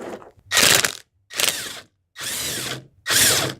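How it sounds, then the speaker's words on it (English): An impact wrench fitted with a 13mm deep socket on an extension unbolts a windshield wiper arm in four loud, close bursts of rapid hammering, separated by brief silences. "I'm using my impact wrench, my tight reach, and a 13mm deep socket."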